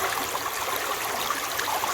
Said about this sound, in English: The water is washing all the light stuff off and letting the heavy sit in the bottom